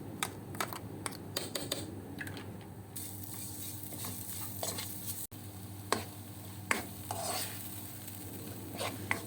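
A ground spice paste for chicken curry is sautéed in a pan, giving a steady, moderate sizzle with scattered ticks and taps from stirring throughout.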